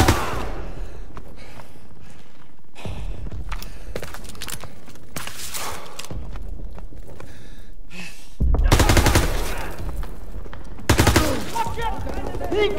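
Sustained bursts of machine-gun and rifle fire from a Call of Duty WWII battle, heavy volleys near and loud with shorter salvos between, shouted voices mixed in.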